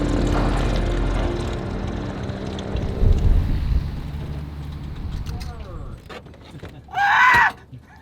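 A floatplane arrives at Lake Hood, Alaska: a broad engine and propeller drone dominates at first and gradually fades, with brief voices near the end.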